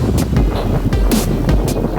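Wind gusts across the whispering sand dunes at Bromo, a loud, steady rushing hiss with buffeting against the microphone.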